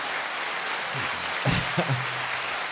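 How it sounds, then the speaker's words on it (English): A round of applause fills the space as a dense, even wash of many hands clapping at once, steady and fairly loud, with a few brief low voice sounds partway through. "let me give you boys a round of applause"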